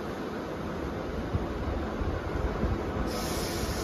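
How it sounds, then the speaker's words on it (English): Continuous rushing rumble of a Transport for Wales passenger train departing Cardiff Queen Street station nearby, steady and noisy with a faint high squeal creeping in toward the end. "Departing now is the 1630 Transport for Wales service from Barry Island to Merthyr Tydfil."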